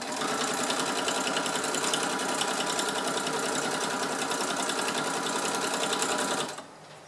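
A sewing machine runs steadily for about six and a half seconds, stitching together recycled fabric scraps, with a dense, even mechanical whir before it stops and leaves quiet room tone.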